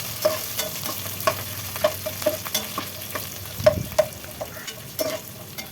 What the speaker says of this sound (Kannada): ಸ್ವಲ್ಪ ಕರಿಬೇವು ಜೀರಿಗೆ ಮೆಣಸು ಎಲ್ಲ ಅರ್ಧ ಅರ್ಧ ಸ್ಪೂನ್ ಹಾಕ್ಬಿಟ್ಟು ನೀಟಾಗಿ ಎಣ್ಣೆಯಲ್ಲಿ ಫ್ರೈ ಮಾಡ್ಕೊಳ್ಳೋಣ